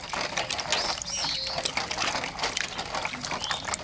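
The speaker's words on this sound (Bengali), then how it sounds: "আম ধুচ্ছি" Mangoes from a home tree being washed in water, a continuous wet splashing and sloshing with small clattering knocks as the fruit is handled, steady and fairly close with no talking.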